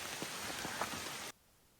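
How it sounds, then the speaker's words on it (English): Rain falls steadily on an Appalachian Trail path in summer, a dense, even patter of drops heard close up for just over a second before it cuts off abruptly, with no voices. "Back on trail in the rain."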